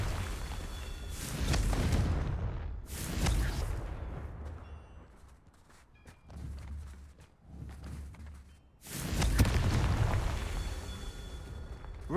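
Bombarda spell blasts in Hogwarts Legacy land as a few heavy, rumbling explosions with long decaying tails, separated by quieter stretches.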